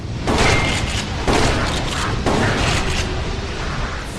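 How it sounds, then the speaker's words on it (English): Rumbling explosions go off in a boss-room fight in Ratchet and Clank Future: A Crack in Time, three heavy booming bursts roughly a second apart over continuous loud blasting, with no talk. "the room's kind of exploding"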